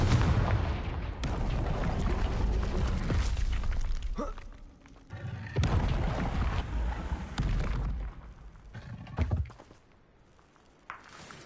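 Confringo blasting spell explosions in the Hogwarts Legacy video game: several loud booming blasts with sharp cracks and shattering debris, separated by brief quieter gaps, ending with a softer tail and one final small hit.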